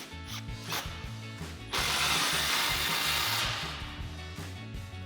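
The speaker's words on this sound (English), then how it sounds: "we're going to grab our 15mm socket and tighten this clamp down." A ratchet on a 15mm socket tightens an exhaust clamp on a Tacoma single exhaust system, with rapid, close pawl clicks in short bursts and a steady broadband whoosh through the middle.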